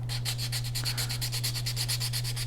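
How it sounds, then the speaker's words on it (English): Folded loose sandpaper rubs back and forth by hand along the edges of an Estes Red Nova model rocket, a quick regular rasping rhythm, close and steady over a constant low hum. "take some loose sandpaper and just kind of fold it over"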